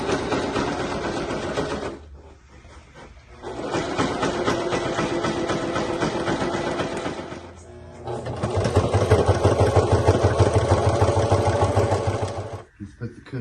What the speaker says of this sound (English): Fire this sewing machine up.